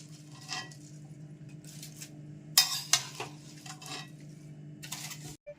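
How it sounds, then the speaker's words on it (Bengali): A spoon scrapes and knocks against a pan as cabbage and potato curry with bay leaves is stirred over a low flame, giving irregular metallic clatters with a couple of louder knocks over a quiet hum. "এরকম নাড়া দিতে থাকবেন সমানে, গ্যাস একদম অল্প করে।"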